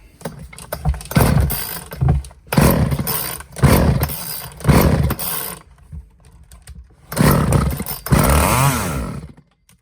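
A Craftsman chainsaw, just through a carburetor rebuild and tune-up and primed with starting fluid, fires and runs in four or five loud, close bursts of rough engine roar, each cut off by a short pause.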